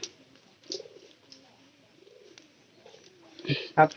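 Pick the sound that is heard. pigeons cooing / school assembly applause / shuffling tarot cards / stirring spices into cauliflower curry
pigeons cooing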